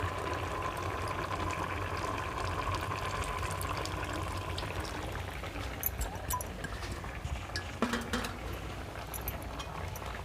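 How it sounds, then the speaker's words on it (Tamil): Dissolved tamarind water being poured into a pot makes a steady liquid rush lasting several seconds, then gives way to faint clinks and splashes, with no talking. "புளியை ஊற்றிக்கலாம்"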